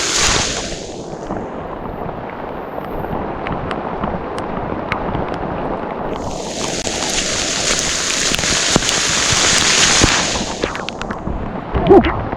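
Rain dumps down hard on the Chattooga River Trail, a loud, continuous wash of drops with sharp nearby taps and splatters that swell and ease in waves.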